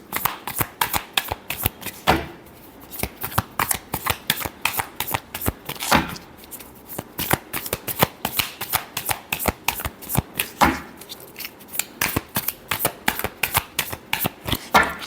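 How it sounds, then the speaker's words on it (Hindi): Tarot cards are shuffled close up in quick, crisp riffling bursts that repeat steadily, with brief pauses between runs. "Last shuffle."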